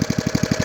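A 1979 Briggs and Stratton 5 hp industrial engine on a 1980 Hayter Hayterette lawn mower idles close by with a steady, rapid chugging pulse, about a dozen even firing beats in under a second.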